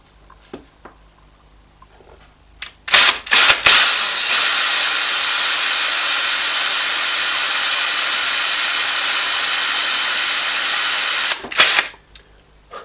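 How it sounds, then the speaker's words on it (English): A small power drill whirs steadily at high speed, cutting out part of a broken tablet's circuitry, after a few clicks of handling; the loud, even drone runs about eight seconds, then stops with more clicks. "I'm actually going to drill it out because I think it'll be easier."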